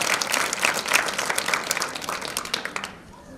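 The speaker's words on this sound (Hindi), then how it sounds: "एक बार ताली उनके लिए" Applause from a school gathering honoring the science coordinator, a dense burst of many hands clapping for about three seconds, then tapering off quickly at the end.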